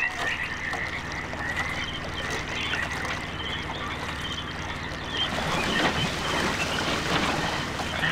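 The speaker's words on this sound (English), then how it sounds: "I can still kind of hear it trickling over the tree frogs." Tree frogs croak in a steady overlapping chorus over a faint trickle of water in the game Myst, with a fuller burst of water noise and splashing near the end.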